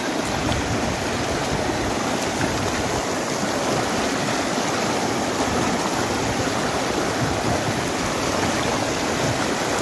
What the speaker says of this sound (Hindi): नदी का बहाव